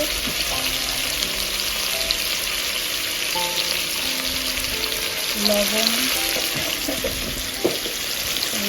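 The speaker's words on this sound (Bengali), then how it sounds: "আলুটাকে সুন্দর করে ভেজে নিতে হবে লবণ আর হলুদ দিয়ে" Potatoes frying with salt and turmeric in a home kitchen pan, a continuous bright sizzle with a few clinks and stirring scrapes over a faint background hum.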